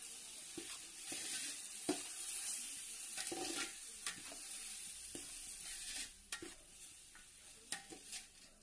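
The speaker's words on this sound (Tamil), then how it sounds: "பாருங்க டொமேட்டோ வந்து நல்லா ஃப்ரை ஆகணும்" Chopped tomatoes fry with a soft sizzle in a pan for biryani, while a spoon stirs and scrapes them in repeated close clicks and knocks.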